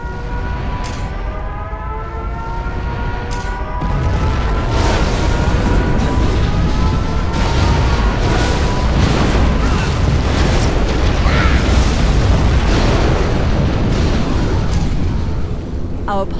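Nuclear missile explosions in the video game Command & Conquer Generals Zero Hour, a loud continuous roar of booming blasts with a wailing siren tone early on and dense rumbling debris throughout.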